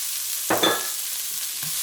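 Chopped white onions fry in a pan for beef fried rice, a soft steady sizzle with a few quick stirring scrapes, fairly quiet and with no talk.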